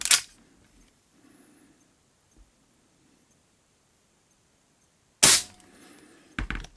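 An Artemis CR600W CO2 air pistol fires three sharp, loud cracks, one at the start and two close together near the end, separated by quiet gaps with faint handling noise.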